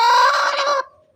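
A broody hen sitting on eggs gives a loud, close, drawn-out cluck, then after a short gap starts another.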